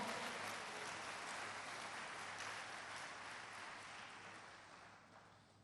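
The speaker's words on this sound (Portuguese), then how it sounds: "aplauda ao Senhor" A church congregation claps in a steady, dense patter that slowly fades over several seconds, faint and distant with no talk over it.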